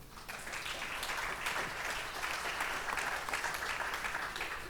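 An audience at a Smart Villages conference claps as a guest speaker is introduced: sustained, even applause from a roomful of people, moderately loud and unbroken for several seconds.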